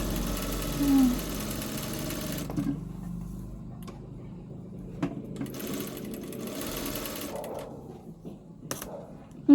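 An electric sewing machine stitches shirt sleeves in short whirring runs separated by brief pauses, fairly quiet and close, with faint low voices in the background.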